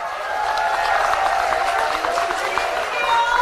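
Applause from an audience after a speech at a political academy opening ceremony: steady, dense clapping with some crowd murmur, under a voice talking over a microphone.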